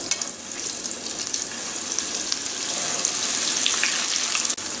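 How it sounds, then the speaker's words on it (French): Squid pieces deep-fry in a pot of hot oil, a close, continuous bubbling sizzle with brief crackles, no voices. "je vais envoyer mes calmars dans l'huile"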